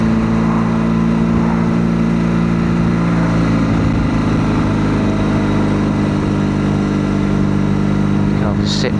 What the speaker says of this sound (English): It's great being on a motorbike on a Friday afternoon going through traffic.